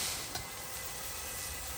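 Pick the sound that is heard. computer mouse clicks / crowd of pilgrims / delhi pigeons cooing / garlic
garlic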